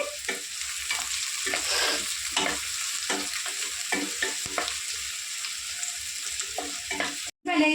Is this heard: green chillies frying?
yes